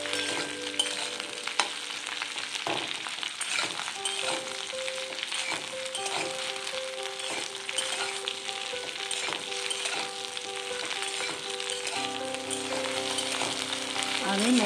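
Okra frying in oil over a high flame makes a continuous, fairly quiet crackling sizzle with faint stirring scrapes, heard alone without talk.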